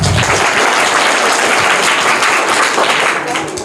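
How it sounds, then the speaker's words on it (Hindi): A loud, dense round of audience clapping for a correct answer at a general knowledge quiz competition, close and steady before tapering off slightly at the end. "इनके लिए जोरदार ताली बजाएं, सही जवाब है।"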